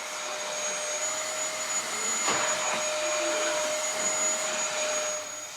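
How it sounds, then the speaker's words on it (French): A vacuum cleaner runs steadily at home, a constant loud whirring drone with a high whine, swelling slightly midway and continuing alone without talk. "Passer l'aspirateur, ça fait partie des choses de la vie, on n'a pas le choix, on le fait."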